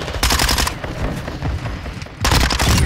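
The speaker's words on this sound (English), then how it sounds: "Shoot your gun." Rapid bursts of gunfire from a gun in Call of Duty crack loud and close, a sustained volley followed by a brief lull and another hard burst at the end.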